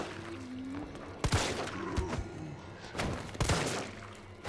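Gunfire in Resident Evil 3, with two sharp, loud shot bursts about two seconds apart over a busy game soundtrack with a low hum.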